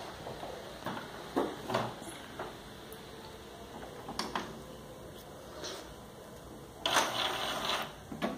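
Epson inkjet printer (XP-series) powering on after being plugged in, a quiet run of mechanical clicks, ticks and short whirring bursts from the carriage, ending in a louder stretch of motor noise, heard alone and close.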